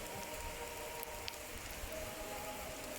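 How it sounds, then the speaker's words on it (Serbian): Heavy rain pours down in a steady, even hiss that fills the scene, with only a few faint isolated ticks of drops and no voices. "Evo počela je i kiša velika"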